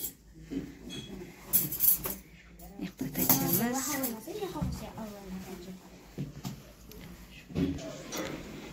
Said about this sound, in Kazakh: Анүлік салфеткаларды реттеп жатыр, қасық вилкілерді қойып жатыр.